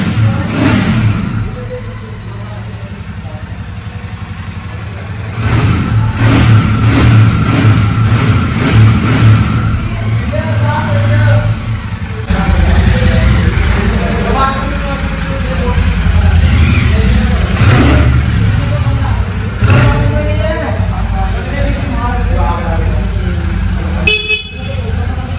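A Royal Enfield Super Meteor 650 motorcycle engine revs up and settles repeatedly, loud and close, with a horn-like toot and people talking over it.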